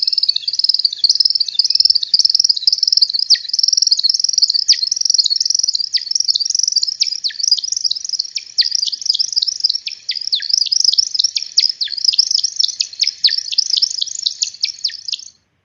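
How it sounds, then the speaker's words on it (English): Woodcock flight display in a timber-harvest woodland, a long run of rapid high twittering chirps made by the wings, steady and fairly loud, rising into quicker bursts toward the end with no voices. "what I'm about to play for you is the flight display of the woodcock"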